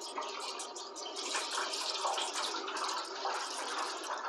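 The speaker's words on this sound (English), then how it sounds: "We're just going to pour it in the pan." Dissolved cyanotype bleach solution is poured from a container into a pan, making a steady, splashy gush of liquid that runs continuously for several seconds at close range.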